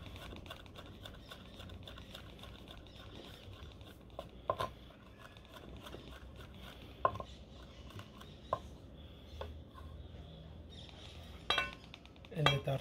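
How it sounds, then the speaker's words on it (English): A knife chops two anchovies on a cutting board while making steak tartare, giving quiet irregular taps and a few sharper knocks over a faint kitchen background, close by with no talk. "Anchovy, two anchovies. Again, give them a nice chop."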